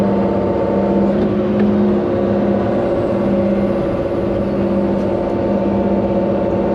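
A tractor engine drones steadily while pulling a water line plow through the ground, a constant loud low rumble with no pauses and no talk.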